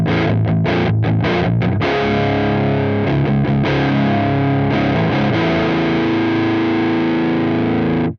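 A heavily distorted electric guitar through a Soldano amp simulation on a Two Notes Genome plays loud chords and a few muted chugs, then lets a big chord ring out before stopping.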